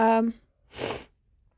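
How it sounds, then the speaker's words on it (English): A brief voiced sound, then a single breathy sniff up close, followed by quiet. "Excuse me for my sniffling."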